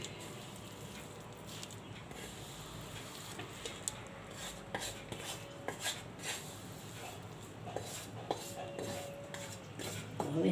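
Methi pak mixture being poured into a plate and spread in a home kitchen, with soft scraping, tapping and clinking of a metal spoon against the plate, quiet and intermittent with a few sharper taps.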